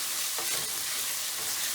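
Finely chopped ginger and garlic sauté in a pan for a lamb curry, a brief dense sizzle heard up close with a faint stir of the spoon.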